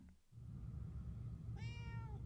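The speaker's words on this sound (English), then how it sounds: "It's the cat." A cat in the video game Murdered: Soul Suspect lets out a single clear, rising-then-falling meow over a low, rumbling ambient background.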